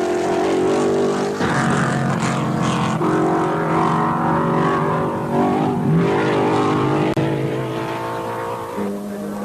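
1957 British Grand Prix racing cars, a Vanwall, Maserati and Ferrari, roar past in a loud continuous engine drone with shifting pitch as they pass, close and alone.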